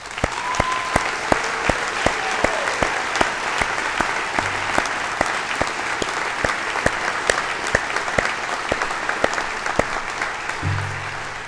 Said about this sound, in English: Congratulations, another round of applause.